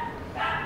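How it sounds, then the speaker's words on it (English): Dogs bark in a short burst in the background, a brief yappy bow-wow heard indoors at moderate distance, with no talk over it. "Or are my dogs going crazy? Sorry about the noise in the background here."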